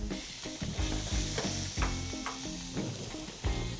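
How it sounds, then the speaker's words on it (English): Fresh shrimp hit a hot pan with garlic, crackling in a loud sustained sizzle, with rhythmic stirring knocks and scrapes of a utensil against the pan throughout. "Next, we're gonna add our shrimp"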